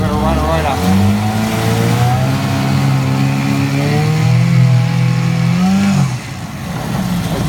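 A Mercury 9.8 HP outboard engine revs up in gear, a loud, sustained rising drone with strong harmonics held for about six seconds before dropping back, close to the microphone.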